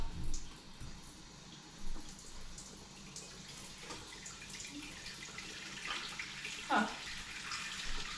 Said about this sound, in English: I'm gonna get some hot water going in the sink